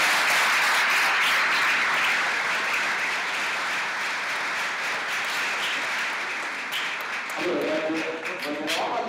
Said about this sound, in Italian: qui dobbiamo fare un applauso a Maurizio